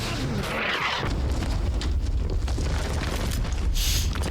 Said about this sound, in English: And there's the explosion.